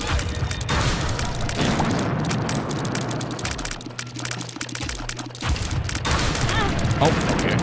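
Continuous dense crackling blasts and booming explosions from the video game The Binding of Isaac: Repentance fill the scene, loud and chaotic, with a brief lull in the middle before the barrage resumes.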